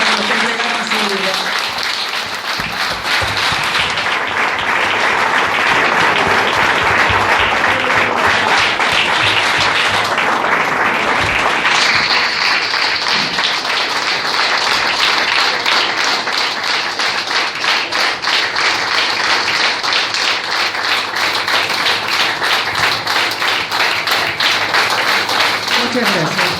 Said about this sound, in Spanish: les queremos pedir un minuto de aplauso para nuestros soldados